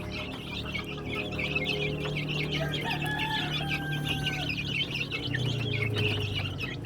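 A flock of young thunderbird chickens, one and two weeks old, clucks and chirps steadily on a chicken farm, a loud, dense chorus with occasional longer calls.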